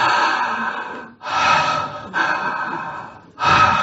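Heavy breathing during charismatic prayer, several loud breathy inhales and exhales in quick succession, close and with brief pauses between them, no speech.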